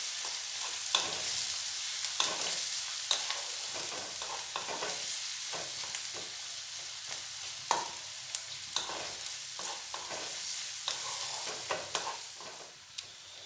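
Onions and two red chillies cut into four pieces each fry in a pan for pasta and are stirred, with a steady sizzle under repeated scraping strokes of a spoon at an irregular rhythm, close and fairly quiet.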